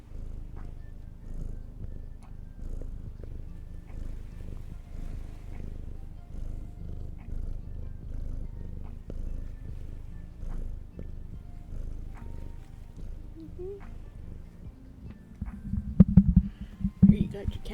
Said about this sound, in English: Here you got your cat purrs for the day.